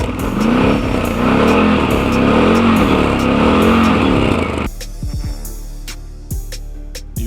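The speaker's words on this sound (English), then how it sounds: "do you want to listen to the engine sound? Nice sound, very nice sound," A BRP Maverick 1000 side-by-side with a standard muffler revs loudly up close, its engine holding a high rising drone before dropping back to a rough, throbbing idle with a few blips.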